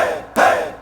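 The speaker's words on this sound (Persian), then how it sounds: "و این تشویق ها و این مواردی که اینجا هستن که داخل خود ست هم هستش" A short crowd-cheering pad triggered from a phone organ app, a burst of loud synthetic cheers and shouts that swells suddenly and then trails off over under a second.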